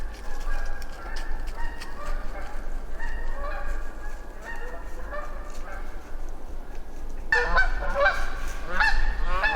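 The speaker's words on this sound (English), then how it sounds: "Geese are migrating through." Geese honk repeatedly in a loose, overlapping chorus over a steady background hiss, and the calls grow louder and denser toward the end.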